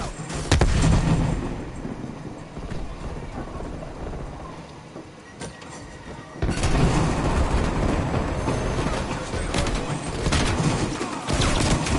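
Grenade explosion in a video game, a deep booming blast with a long rumbling tail, followed by a second heavy roaring burst that sustains loudly to the end.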